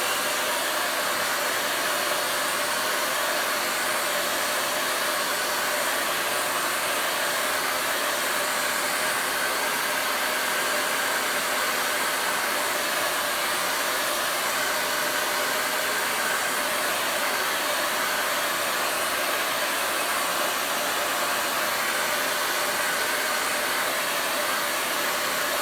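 A hair dryer blows steadily on fresh acrylic paint, a constant airy whoosh lasting the whole stretch at even loudness, with no talking over it.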